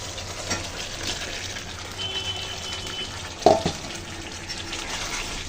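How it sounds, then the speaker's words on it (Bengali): Fried prawns and potatoes going into sizzling masala for prawn kalia, a steady frying hiss throughout with a sharp utensil clatter partway through, close and without talk. "এখন দিয়ে দিচ্ছি ভেজে রাখা চিংড়ি আর আলু।"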